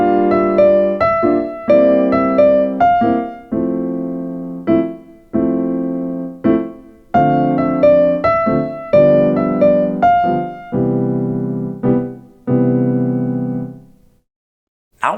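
Piano-style cocktail melody played together with chords, a sequence of struck chordal notes and sustained tones ringing and decaying one after another, loud and close, ending in a brief silence.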